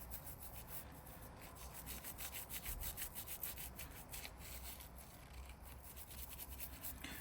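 Scraping grime from the back side of a broken Game Boy: continuous close-up scratchy rasping and rubbing strokes, fairly quiet, with nobody speaking.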